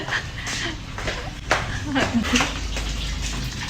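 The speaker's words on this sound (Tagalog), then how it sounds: "Kaya lang naririnig no, ang ingay ng tubig." Water runs steadily from a tap throughout, a continuous rushing hiss close by, with occasional soft knocks and brief vocal sounds over it.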